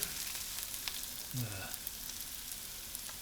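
Onions frying in a pan with ginger added for sambal goreng made with canned fish, producing a steady, fairly quiet sizzle with a few faint stirring knocks.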